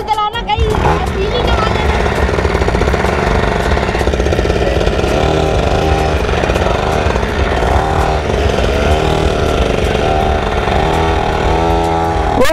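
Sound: small motorbike engine starting and running

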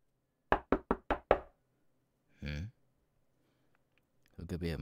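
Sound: knocking on a door

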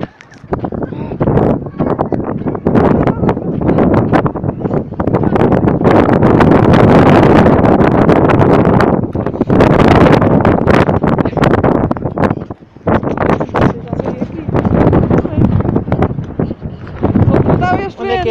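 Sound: strong wind at the Cabo da Roca coastal cliffs

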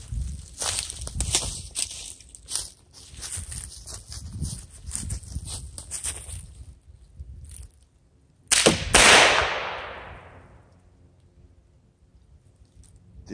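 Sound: revolver gunshot at cardboard target

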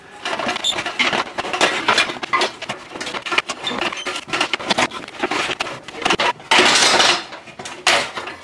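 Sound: snipping sheet metal sides off with snips

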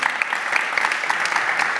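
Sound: audience applause after conference session

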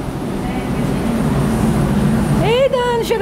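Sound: at the door of an airplane, aircraft engine noise

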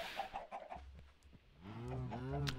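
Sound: cows mooing in video game Minecraft

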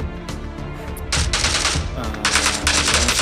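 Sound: gunfire in PUBG New State video game

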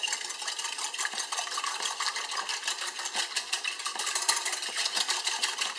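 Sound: whisking eggs for an apple Dutch pancake

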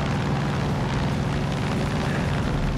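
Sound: airplane engine flying in video game Far Cry 5

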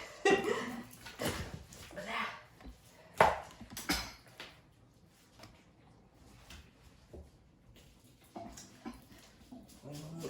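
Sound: scraping fish scales with a spoon

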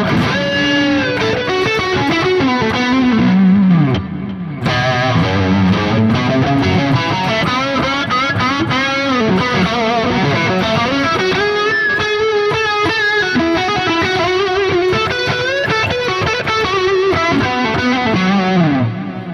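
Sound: electric guitar through Soldano SLO-100 Neural DSP plugin, distorted

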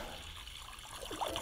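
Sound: cold water poured into a kazan pot for fish stock

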